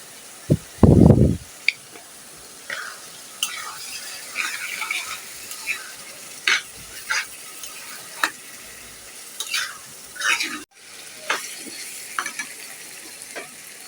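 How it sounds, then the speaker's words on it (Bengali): An egg fries and is stirred among nearly cooked vegetables seasoned with black pepper, for vegetable rice: a brief loud clatter at the start, then steady sizzling with repeated scraping strokes of a spatula, close and alone. "এখন একটা ডিম দিয়ে দিচ্ছি"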